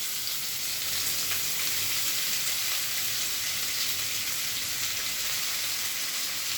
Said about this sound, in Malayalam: ഇത്ര നമ്മളതിലിട്ട് ഇളക്കാം